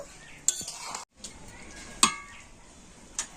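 Chicken cooked down in a pan for birthday chicken biryani, with a soft background sizzle and a few scattered spoon clinks and scrapes against the metal, one brief silent gap, no talk.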